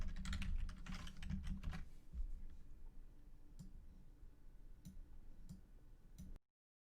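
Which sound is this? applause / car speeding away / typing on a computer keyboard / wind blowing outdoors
typing on a computer keyboard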